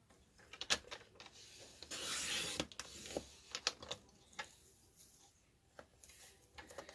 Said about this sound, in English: Let me bring in my cutter